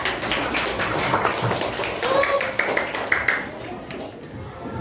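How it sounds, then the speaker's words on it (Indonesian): Students in a classroom clap for a few seconds, a brief patter of applause with a voice audible around it. "Tepuk tangan dulu."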